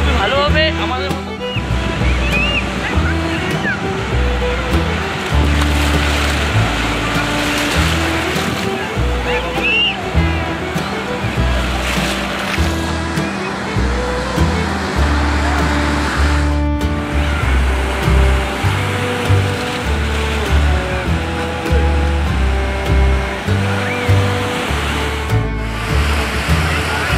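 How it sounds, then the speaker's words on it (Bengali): Sea waves breaking and washing in at Digha beach, a steady loud surf roar filling the whole stretch, with broad rushing swells and splashes rising and falling continuously, along with music and voices in the background. "এখন দেখতে পাচ্ছেন কত সুন্দর ঢেউ আছে এখানে"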